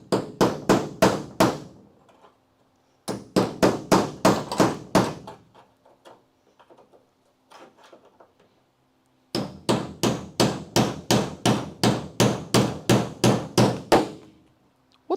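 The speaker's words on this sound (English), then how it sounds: "So we can just punch the weld out." Hammer blows on a steel punch driving out a weld on an old car under restoration: loud ringing metallic strikes in quick rhythmic runs, three bursts separated by short pauses, close to the listener.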